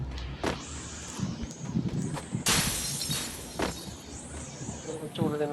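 Glass shattering: a sudden, loud crashing burst in the middle, with bright, scattered clatter trailing after it, set among busy background noise and voices.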